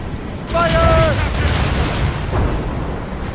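Cannon fire from a sailing warship in Assassin's Creed Rogue, a heavy boom bursting out and rumbling on with a second thud later, over constant sea and wind noise, with a brief shouted voice.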